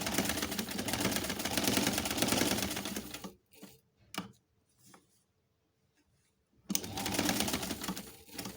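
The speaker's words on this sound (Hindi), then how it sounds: "कंटिन्यू सिलाई हो रही है," A sewing machine stitches a cushion cover, running in a fast continuous whir, stopping for a few seconds with faint clicks and handling, then starting again.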